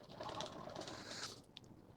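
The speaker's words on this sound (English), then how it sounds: "Apparently the pigeons decided this is the time to get frisky." Pigeons cooing in a garden among fruit trees and plants, a steady soft murmur of calls at moderate distance with a few brighter chirps layered on top.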